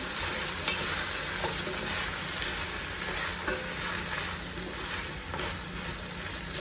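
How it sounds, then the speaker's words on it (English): Ingredients for a rich beef stock are stirred in a pot to coat them, making a continuous soft sizzle and frying hiss with faint scrapes of the spoon, and no voices. "adding them and then stirring them in to sort of get them coated"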